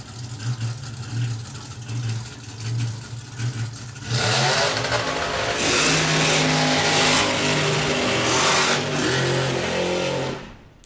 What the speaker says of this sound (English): So we got side-by-side door cars. First up, Supercharged Outlaws.